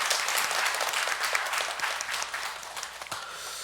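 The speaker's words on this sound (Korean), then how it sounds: "하나님께 영광의 박수 올려드리겠습니다" Congregation applauding during a Sunday morning church service, a steady wash of many hands clapping that holds fairly evenly for several seconds before easing slightly toward the end.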